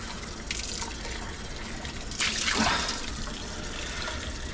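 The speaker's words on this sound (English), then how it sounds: "we got our measuring cup. Let's just give it a little quick rinse" A measuring cup is rinsed under a running kitchen tap, with a steady stream of water splashing and swelling briefly as the cup fills and is swirled.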